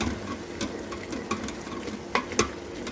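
Flour is stirred into coq au vin in a multicooker, making a soft, continuous scraping and faint sizzle with a few sharper clicks of the utensil against the pot.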